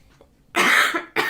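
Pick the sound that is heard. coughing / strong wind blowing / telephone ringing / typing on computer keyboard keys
coughing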